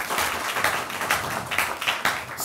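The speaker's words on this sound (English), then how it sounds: "Give them a big clap." A religious summit audience breaks into steady, dense applause, many hands clapping together at close range with small swells in volume, no voices standing out above it.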